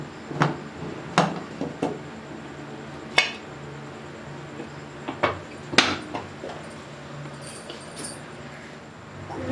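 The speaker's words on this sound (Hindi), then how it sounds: "अब हम कुकर का ढक्कन खोलेंगे।" Metal clinks and clanks as the lid of a pressure cooker holding masoor dal is handled and opened, giving a scattered series of sharp knocks with quieter rattling between them.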